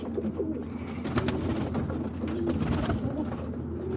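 Roller pigeons coo in a backyard coop in Boston, Massachusetts, a dense, continuous murmur of many birds close by, with no voices.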